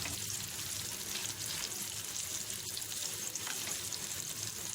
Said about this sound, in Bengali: ডিমটাকে ভালো করে ভেজে নিতে হবে